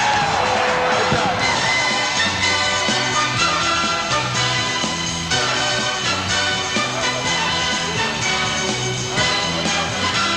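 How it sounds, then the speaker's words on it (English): A football stadium crowd cheering at halftime as Boise State leads Hawaii, a loud sustained roar with whoops across the whole stretch, music-like tones mixed beneath. "And listen to this crowd."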